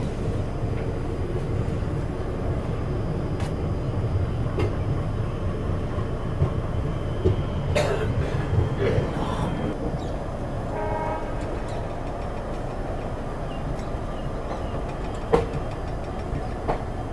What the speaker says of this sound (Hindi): 7:45 मतलब बिल्कुल राइट टाइम हमारी जो ट्रेन है भटिंडा जंक्शन से निकल रही है।